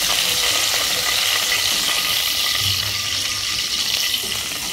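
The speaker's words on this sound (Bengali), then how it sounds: "তো ইলিশ মাছগুলো আমি শ্যালো ফ্রাই করে নিলাম। এখন আমি নাড়িয়ে নিয়ে নেব।" Hilsa fish shallow-frying in hot oil for a restaurant-style curry, a loud, steady sizzle with scraping stir sounds running throughout, close and alone without talk.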